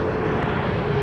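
Fixed-wing airplane taking off on runway 30 left at Minneapolis–Saint Paul (MSP) airport in winter, a steady broadband engine roar filling the short moment, loud and continuous with no talk.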